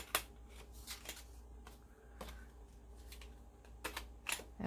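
A corner chomper punch clacks through a paper corner on its 1/2 inch side, a few sharp close clicks and crunches over quiet table handling with no talk.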